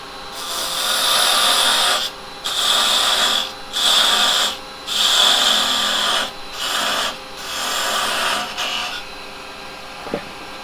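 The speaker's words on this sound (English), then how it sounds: "I'll come in there with a parting tool." A parting tool cuts into spinning wood on a lathe, giving a raspy scraping hiss in about seven close, steady bursts separated by short pauses, with no talking.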